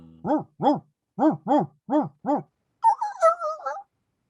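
A person vocally imitates a dog from an alien movie: six evenly spaced barks followed by a wavering, drawn-out squeal, loud and close with silence between the barks.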